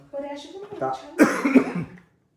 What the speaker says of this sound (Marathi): रात्री मला एवढा खोकला लागतोय